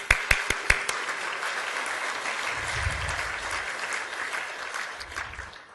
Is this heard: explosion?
no